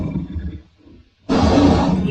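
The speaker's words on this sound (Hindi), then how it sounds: "शेर की दहाड़ सुनाई पड़ी" A lion in a Hindi moral story about a clever donkey lets out a sudden, loud, rough roar that is close and sustained, following a short quiet pause and low rumbling.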